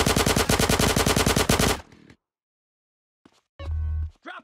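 Video game gunfire in GTA San Andreas, a loud rapid automatic burst of evenly spaced shots lasting under two seconds, then near silence and a shorter, dull low burst.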